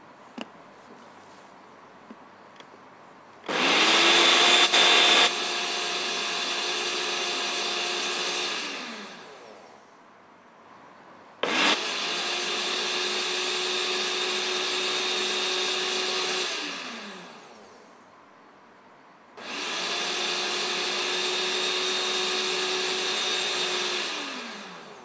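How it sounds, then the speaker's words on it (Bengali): Three long runs of an electric blender whirring through watermelon, beetroot and a few mint leaves for juice. Each run starts abruptly, holds a steady, loud motor drone for several seconds and then winds down, with brief pauses between runs. "এবার ব্লেন্ড করে ফেলবো।"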